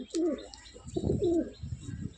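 Pigeons coo in a series of close, throaty rolling calls, with a few short chirps in between, inside an Andhra pigeon loft; no voices.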